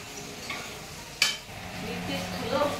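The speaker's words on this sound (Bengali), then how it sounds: "রান্না চলছে টান হোক তারপরে দেখাচ্ছি।" Food is stirred and fried in a pan in a home kitchen, with a soft sizzle underneath, one sharp scraping stroke partway through and further faint stirring after.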